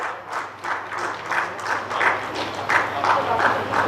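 Sustained audience applause at a district sports officers' appointment letter ceremony in Ranchi, steady clapping from a crowd throughout, fairly loud and continuous with no one speaking over it.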